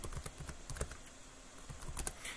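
Rapid, uneven keystrokes on a computer keyboard while entering commands for a WireGuard VPN server config, close and fairly quiet, with no voice over the clatter.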